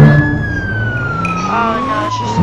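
Police car siren in the Roblox game ERLC, a wailing tone sweeping slowly downward and up again over engine noise, loud and close, with a brief voice near the end.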